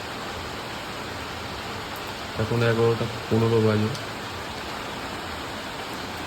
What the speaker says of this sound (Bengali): ভালোই জোরে বৃষ্টি হচ্ছে